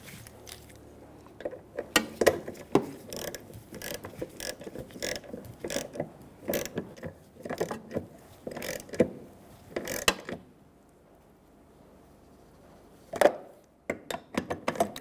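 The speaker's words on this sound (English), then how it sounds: "we can start our last bolt. Once we get them all in there," Bolts on the fuel tank filler neck of a 2000-2007 Ford Taurus being run in with a ratchet, giving close, uneven bursts of metallic clicking and clunking, then a quiet stretch and one sharp knock near the end.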